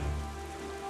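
Steady rain falls in The Legend of Zelda: The Wind Waker video game during an endless storm, a continuous soft hiss with low rumble underneath, heard alone without voices.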